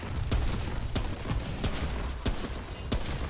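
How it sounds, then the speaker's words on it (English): Rapid gunfire in the video game Remnant: From The Ashes, aimed at an enemy's legs, with loud sharp shots at an uneven rhythm over steady game noise. "I'm just shooting him in the legs."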